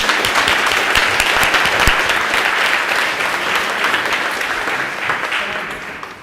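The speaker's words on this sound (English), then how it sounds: "Let's give them another round of applause." A crowd applauds continuously, loud and dense clapping that slowly tapers toward the end.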